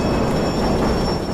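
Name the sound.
speeding subway train in the video game Def Jam Fight for New York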